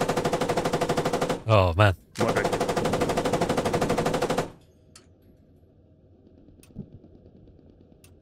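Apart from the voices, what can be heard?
gunfire from the video game Squad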